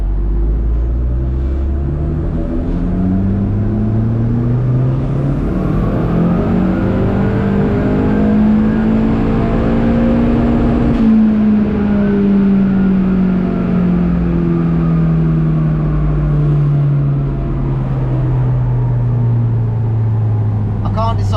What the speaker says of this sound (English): second, third, fourth, full throttle, dyno holds the car back